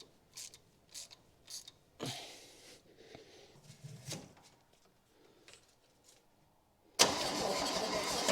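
A long-stuck 1966 Chevy Bel Air engine turns and catches after sitting for years: scattered mechanical clicks and clunks, then a loud sudden roar that holds steady to the end.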